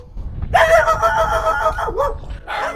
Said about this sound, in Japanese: めちゃめちゃ犬に吠えられたので景色を堪能できませんでしたね。